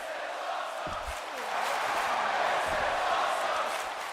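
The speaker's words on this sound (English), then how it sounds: "Well, the crowd are loving it." A wrestling video game arena crowd roars and cheers in a sustained wash, swelling louder midway, with faint low thuds underneath.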